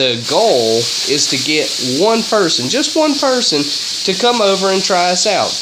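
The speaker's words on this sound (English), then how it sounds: "If you hear that sizzling in the background, my lady love is making bacon for me" Bacon fries in a pan in the background, a faint, steady sizzling hiss running beneath a person speaking continuously in the foreground.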